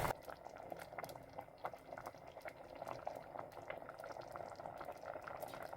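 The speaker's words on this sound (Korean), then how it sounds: "예, 죽이 끓고 있고요" Rice porridge boils in a pot with quiet, close bubbling and scattered soft pops that go on steadily throughout.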